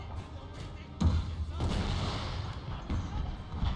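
Cannons fire in a Total War: Shogun 2 battle: a heavy thud lands about a second in, followed by dull booms and rumbling battle noise, with softer distant shots scattered through.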